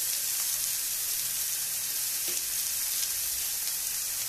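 Onion frying in oil in a pan for a soya chunks curry, giving an even, dense sizzle throughout with a faint utensil tap midway.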